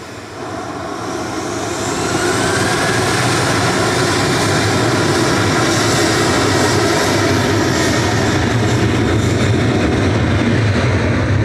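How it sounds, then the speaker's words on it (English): Ryanair passenger jet departing Manchester Airport for Copenhagen, its engine roar swelling over the first two seconds and then holding loud and steady for the rest, with no talk over it. "Ryanair's EIESV departing to Copenhagen with flight"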